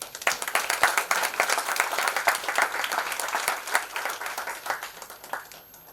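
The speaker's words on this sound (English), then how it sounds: "A big round of applause for the ma'am." An audience at a professional seminar claps, a close, lively burst of applause with distinct individual claps that stays fairly even before easing off.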